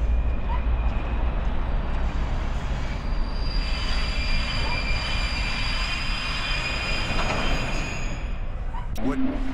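A train rolls along in the horror video game Whispering Lane, a loud continuous rumble with squealing wheels and metallic tones, carrying on steadily under speech.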